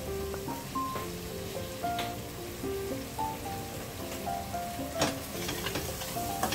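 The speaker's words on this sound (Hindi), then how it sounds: "बस मसाले को भूनते हैं" Spice paste frying in oil in a pan, a soft continuous sizzle and crackle close by, fairly quiet, with occasional stirring scrapes, while unrelated tonal music plays faintly underneath and no one speaks.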